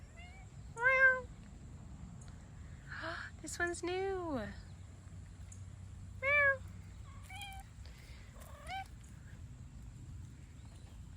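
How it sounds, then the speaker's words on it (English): Several short cat meows come and go close by in a quiet room, some separated by long pauses, and a person talks softly between them. "Airbnb cat is back."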